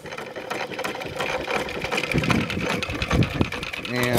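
A Gade 1 1/2 hp engine with its flywheel pulled out a little farther runs with a fast, steady mechanical chatter and rapid ticking beat close by, while someone talks over it.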